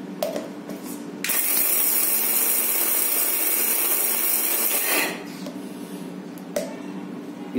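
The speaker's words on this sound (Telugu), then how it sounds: "చూడండి, మిక్సీ బాగా గమనించండి" Close and loud, a kitchen mixer grinder runs for several seconds on roasted toor dal, dried red chillies and cumin, then cuts off, with light clatter of the jar before and after.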